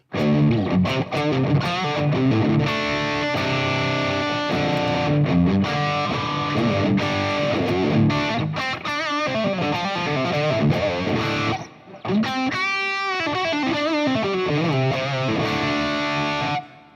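Distorted electric guitar through a Fractal amp simulator with amp, cab and reverb blocks plays chords and riffs with a roomy reverb tail, loud and continuous, briefly dipping once before resuming.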